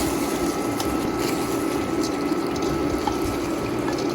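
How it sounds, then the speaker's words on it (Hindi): Leftover water from boiling chickpeas is poured into a pot of chickpea pulao, a steady continuous rushing splash lasting several seconds, close and loud with no talking. "ये जो पानी मेरा चनों का बचा हुआ था जिसमें बॉईल किया था वो भी इसमें शामिल कर रही हूँ।"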